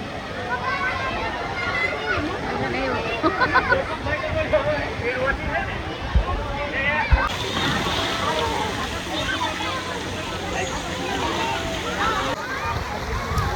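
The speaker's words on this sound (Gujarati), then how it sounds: "તો અહીંયા છત્રી નીચે જે ફુવારો છે તો જો કેટલું પાણી બધું આવે છે।" A water fountain sprays under an umbrella, a dense steady rush and splatter of falling water, loud and continuous, with voices of people nearby heard through it.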